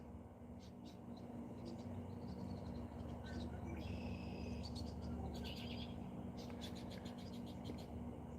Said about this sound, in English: Are you guys able to hear the birds? They're like really loud today.